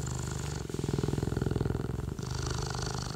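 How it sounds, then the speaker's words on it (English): A cheetah purrs close up, a deep, steady rumbling with a fast pulsing rhythm that shifts slightly as it breathes in and out. "rubbing them down and hearing them purr"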